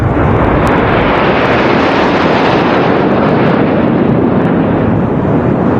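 Three Su-30 fighter jets pass overhead in a Trishul formation during the 76th Republic Day Parade, a loud, continuous, broadband jet roar that fills the whole stretch without letting up.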